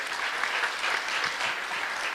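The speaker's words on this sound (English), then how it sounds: "Can you clap for the scientists once again?" An audience at a regional climate outlook forum session claps steadily for the scientists, a dense, even wash of many hands sustained throughout without a break.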